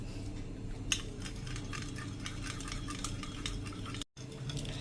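Repeated scraping and clinking of a spoon stirring thick spiced yogurt with chili in a bowl, steady and close, with no talking.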